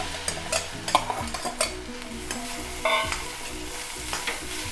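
A spoon scrapes and stirs dal usili with cluster beans in a pan in quick, uneven strokes over a soft sizzle. The sound is close and fairly quiet, and no one speaks.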